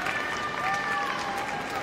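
An audience at the Crufts 2018 dog show applauds a Rottweiler during Working Group judging. The clapping is brief and steady and sits under an announcer's voice for the whole moment.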